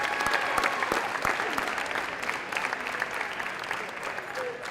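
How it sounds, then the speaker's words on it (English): Audience applause fills a sports banquet honoring Lancer Athletics teams, a steady dense clapping from a sizable crowd that holds throughout with a few sharper individual claps standing out and faint voices mixed underneath. "Let's give her a round of applause for doing that for us"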